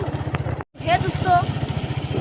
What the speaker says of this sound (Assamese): চাওক বাইক চলাই আছোঁ বৰষুণৰ মাজে